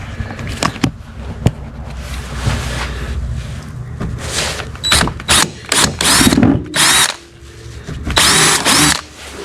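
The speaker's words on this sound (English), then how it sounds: "Okay, I've got me a drill. I'm going to try one and see what it looks like." A power drill whirs in several short bursts up close while fitting gear track to a kayak, with knocks and handling clatter between them.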